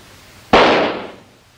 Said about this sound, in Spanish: Cuando el petardo explotó, hizo mucho ruido, ¿no es así?